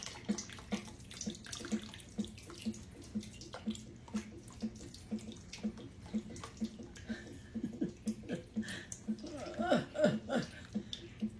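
Cooked pears being drained in a pan, water pouring and splashing steadily like a running tap, with rhythmic clinks and a voice talking over it and a brief chuckle near the end.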